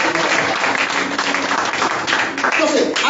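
Church congregation applauding: dense, continuous clapping from many hands at full volume, with voices mixed into the noise.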